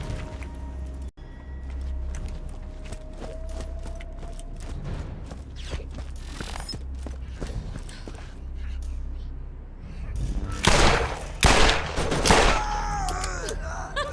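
Revolver shots from a brick-style Dahl revolver in Borderlands, a few sharp bursts of gunfire standing out toward the end over a steady game-sound bed, with a speaking voice present.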